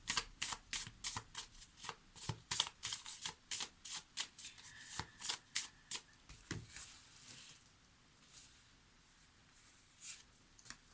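A deck of 44 oracle cards being shuffled during a tarot-style reading, with a rapid run of crisp riffling flicks in bursts, close and fairly quiet, easing into softer shuffling near the end.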